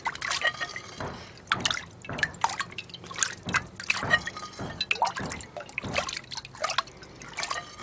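Water splashing and dribbling over material being washed down in a gold prospecting pan, with repeated drips and sloshes in an uneven rhythm, close and moderately loud, with no talking.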